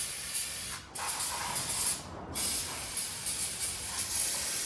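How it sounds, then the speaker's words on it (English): Bursts of aerosol cleaner hissing from a can onto bearing races, loud and close, with two brief pauses between long sprays. "Let's spray these down."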